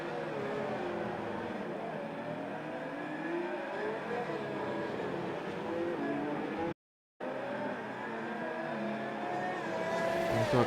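Race cars in an F1 video game at the 2019 Monaco Grand Prix, a train of cars running through the streets with high, steady engine whine and pitch shifts, broken by a brief dropout, with low commentary beneath.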